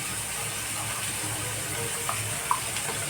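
Water poured into a cooking pot of masala-spiced food on a stove, a steady broadband gush running evenly throughout with a couple of small clinks near the end.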